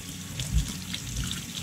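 Warm tap water runs over a snow globe nativity figurine being rinsed, a steady close splashing flow with a few louder spatters, no talking.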